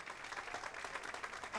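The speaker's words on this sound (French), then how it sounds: "on peut l'applaudir encore" A crowd applauding a baby DJ, with continuous clapping that is faint and distant throughout.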